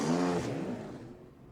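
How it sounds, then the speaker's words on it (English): Porsche race car engines at a GT and GT Cup round at Barber start and rev together, a loud, dense mechanical roar that is strongest at first and then eases slightly while staying steady. "Drivers, start your engines."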